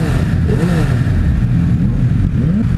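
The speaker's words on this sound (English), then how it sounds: "The bike isn't that quiet, but it doesn't sound that great from the factory" A 2016 Suzuki Hayabusa motorcycle engine runs loud and close with a steady throaty drone and slight rises in pitch, with no pauses.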